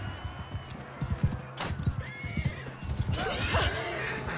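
Horse in Mount and Blade Bannerlord gallops with rapid, close hoofbeats, then a crash of impact and a whinny near the end, over a steady background hum.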